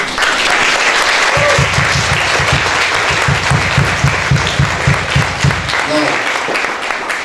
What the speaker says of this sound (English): we're going to give you a round of applause to show you that we're proud of you